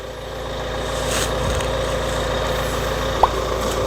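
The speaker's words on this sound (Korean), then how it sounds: "엔진 소리 부드럽고" A 2015 Kia Sportage R 2.0 with 120,000 km idles in a steady, low, even rumble throughout, with a brief small click near the end.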